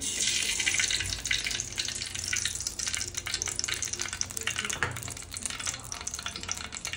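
Two spoons of ghee going into a hot pan for besan ladoo, a continuous close crackling sizzle that holds steady throughout, with a brief louder burst partway through.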